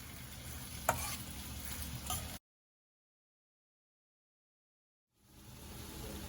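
Curry with masalas sizzling and bubbling in a pan, a steady close frying hiss that drops out completely midway before returning.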